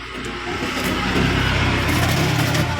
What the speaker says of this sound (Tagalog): may nadaan ulit ng mga motor